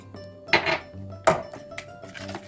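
A utensil knocks and scrapes against a bowl while cake batter is stirred, giving two sharp clinks among softer, quieter scraping.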